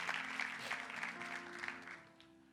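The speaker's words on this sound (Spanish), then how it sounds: "Dele un fuerte aplauso a Dios por eso." Congregation clapping during a sermon, a short, soft spell of group applause with a tonal hum beneath, dying away toward the end.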